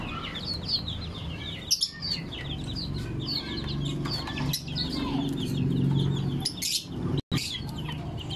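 Chickens and chicks cluck and peep steadily at close range in a backyard poultry setting, with overlapping calls and chirps continuing throughout.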